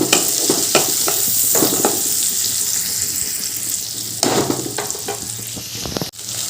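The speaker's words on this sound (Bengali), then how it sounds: "এবার পেঁয়াজটা ভালো করে ভেজে নেব এবার আমি একটা ছোট সাইজের টমেটো কুচি করে দিয়ে দিলাম আবারও এগুলো ভালো করে ভেজে নেব" Onion and chopped small tomato fry loudly in a pan, a continuous close sizzle punctuated by bursts of stirring and utensil scrapes.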